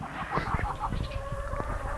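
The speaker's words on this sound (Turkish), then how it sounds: "Bahçemize ördek aldım." American ducks in a garden give a run of quick nasal quacks and honks, several calls in close succession at moderate distance, with no one speaking.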